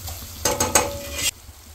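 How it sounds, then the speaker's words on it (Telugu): Masala fries in a pan and is stirred, a steady low sizzle broken by a close burst of scraping and clattering strokes lasting under a second, then settling back to a quiet fry. "చూడమ్మా మసాలా కూడా వేగిపోయింది."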